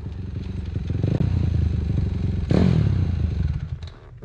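A dirt bike stuck in mud on a Durham outing gives a loud, steady engine drone that surges into a harder rev partway through, with clattering and scraping over the engine and no clear speech.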